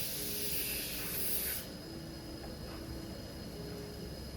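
An airbrush sprays watery orange paint for an art piece, giving a steady close hiss that is louder for the first second and a half, then eases to a softer continuous airflow with no talking.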